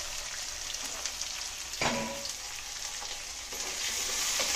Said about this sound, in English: Curry leaf added. And onion is adding.